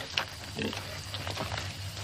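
A pig oinks, grunting repeatedly up close in short snorts over a low rumbling background.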